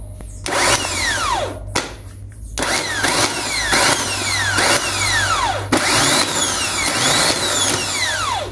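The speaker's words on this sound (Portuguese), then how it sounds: "E o motor de partida também tá bom." The starter motor on a Mitsubishi Pajero Full automatic cranks in repeated loud, close bursts with a whirring, drill-like whine that sweeps in pitch, separated by brief pauses.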